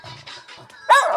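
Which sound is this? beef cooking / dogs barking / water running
dogs barking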